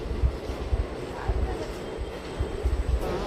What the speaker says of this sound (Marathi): पुढं ही ट्रेन चालली आहे.